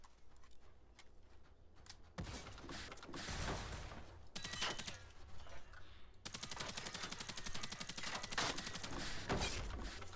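N16 rifle firing 5.56 rounds in the video game Generation Zero, with rapid automatic bursts and dense volleys of shots alongside mechanical clatter, loud and close throughout with no talk.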